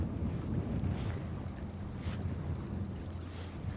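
A small boat on a fjord in rough weather drones along over the water, with a steady low engine rumble mixed with heavy wind buffeting and wave noise, no voices.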